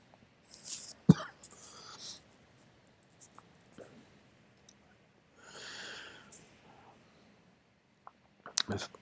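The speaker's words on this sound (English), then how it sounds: "Sorry, excuse the cough." A few short, harsh coughs close to the microphone, spaced out over a quiet background with faint rustling between them.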